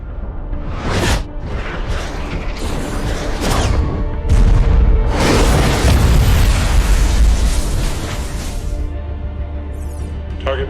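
A missile launching in a tense sci-fi space-war scene, a loud sustained roar and rumble with repeated booming bursts and whooshing rushes that swell to a peak midway, then thin out.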